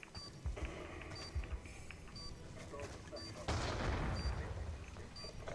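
Gunshots and bursts of gunfire in a tactical video game, with sharp reports at intervals over steady background game sound and a louder, denser stretch of fire near the end.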